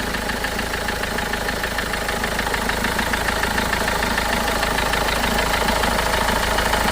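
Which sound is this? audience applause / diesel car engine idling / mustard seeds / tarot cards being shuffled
diesel car engine idling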